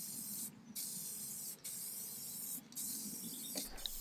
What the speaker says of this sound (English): for the top coat I used clear satin lacquer, and I sprayed multiple coats